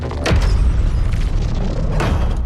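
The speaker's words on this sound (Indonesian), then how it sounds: "mendengar suara dentuman keras tanda makhluk itu berusaha menjebol pintu masuk" A loud, deep boom hits a door near the start, then another heavy thud follows about two seconds later, with a dull rumble between them.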